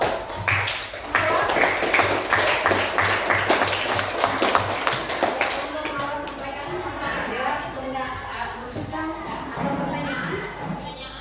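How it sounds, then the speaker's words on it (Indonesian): A classroom group in a teacher-training lesson at a Surabaya university gets a burst of rapid, many-handed clapping that lasts several seconds and then fades into people talking. "beri aplaus untuk kelompok"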